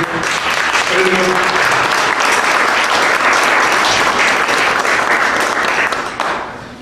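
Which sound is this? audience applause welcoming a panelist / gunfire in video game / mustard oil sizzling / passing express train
audience applause welcoming a panelist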